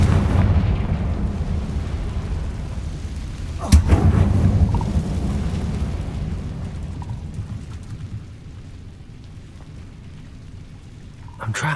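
The Confringo fire spell in Hogwarts Legacy bursts with a single sharp, loud blast, then a rumbling roar that slowly fades over several seconds.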